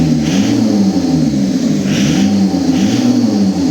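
Renault Kangoo 1.9d F8Q diesel engine with a suspected head gasket fault, revving steadily and loud up close, with rhythmic rises and falls in pitch over a continuous rumble.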